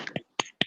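Three sharp, separate claps from students in an online class, each a quick bright crack with short gaps between, thin and compressed as if coming through a call.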